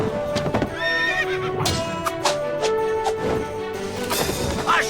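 Horses whinny loudly and hooves clatter in a quick gallop, with a crash and whooshing movement mixed in, close and busy throughout.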